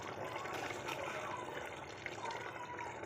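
A catla fish head curry made without coconut simmers in a pot, producing a soft, steady bubbling and gurgling, fairly faint and close, with no speech over it.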